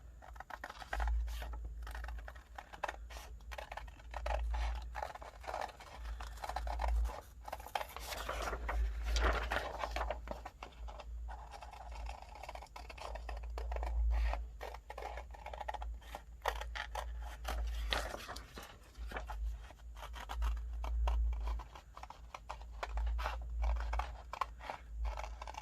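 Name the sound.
scissors cutting paper for a journal page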